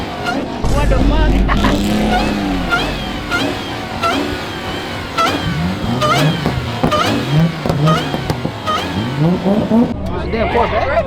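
At a crowded car-meet pit in North Carolina, a C5 Corvette engine revs again and again in sharp rising and falling sweeps. The loud, close revs come through a noisy crowd with people shouting and talking throughout.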